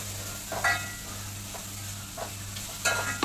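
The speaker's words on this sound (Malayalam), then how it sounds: "നമ്മുടെ നെയ്ച്ചോറൊക്കെ നന്നായിട്ട് നമ്മളൊന്ന് ഇളക്കി എടുത്തു കേട്ടോ" Ghee rice being stirred in a pot over a low background hum, with a few soft scraping strokes at irregular intervals, close and quiet, without voices.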